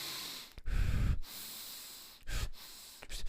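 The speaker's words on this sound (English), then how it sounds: "Try to inhale very deeply and exhale very slowly." Deep, noisy breaths taken alone and close to the microphone: a long drawn inhale, a pause, then a slower exhale, followed by another shorter breath.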